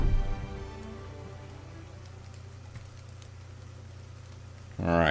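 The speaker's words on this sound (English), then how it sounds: "the rain is real" Rain falls in the video game Battle Brothers, a soft, continuous patter over a low steady hum, with a brief louder burst of noise at the very end.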